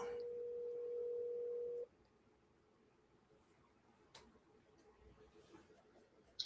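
A steady telephone dial tone hums for about two seconds before cutting off as a call is dialed, followed by faint clicks and room noise.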